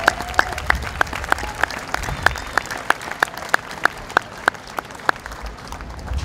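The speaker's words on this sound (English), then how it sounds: "all the musicians one more round of applause." Audience applause for musicians at a 50th anniversary program: one close clapper keeps a steady, evenly spaced beat above a softer wash of crowd clapping throughout.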